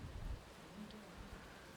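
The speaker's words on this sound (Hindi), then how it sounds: "ये जो रात की बारिश है ना, ये दिन की बारिश से बहुत ही अलग होती है।" Steady rain falling at night, a soft, even wash of drops with faint low rumbles underneath, quiet and continuous throughout with no one talking.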